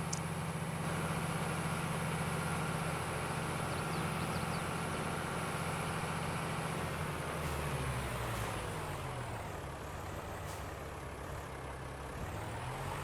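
A tractor engine idles steadily in Farming Simulator 22 with a low constant drone and a slight pitch shift near the end. No one talks.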